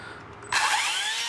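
A chainsaw catches and starts midway through, jumping from near quiet to a loud, high engine whine that holds steady close by.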